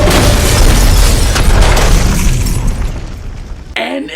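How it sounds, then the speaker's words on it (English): Loud, booming explosions from the 2017 Power Rangers movie roar back to back, a dense thunderous rumble that fades out near the end. "lots of explosions."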